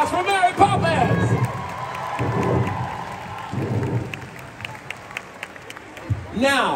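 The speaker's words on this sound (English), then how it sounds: "One more round of applause for Mary Poppins." A musical theater audience at a convention applauds and cheers after a Mary Poppins number, with bursts of whooping and shouting voices rising over ongoing clapping.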